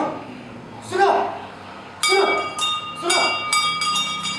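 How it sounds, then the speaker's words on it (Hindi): Bright metallic bell strikes ring out several times, leaving sustained tones hanging, while a voice speaks over them. "वो घंटी"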